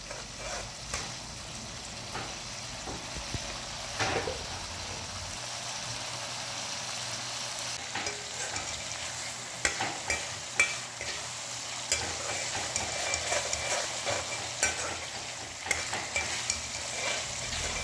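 Spiced masala paste for a Bengali sea crab bhuna is stirred and fried in a pan, sizzling steadily throughout with repeated scraping strokes of a spoon, close and fairly loud, no voices.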